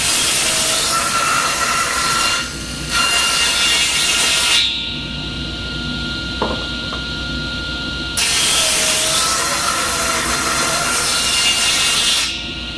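A table saw cuts through wood to make veneer, set for a quarter-inch cut, the blade roaring loudly through the stock in two long passes with a quieter idling whine between them.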